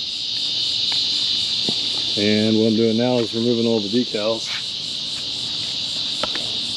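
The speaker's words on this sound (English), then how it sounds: "these crickets are crazy" A loud, dense chorus of crickets trilling continuously outdoors by a driveway where a jon boat sits, steady and close throughout while someone talks over it partway through.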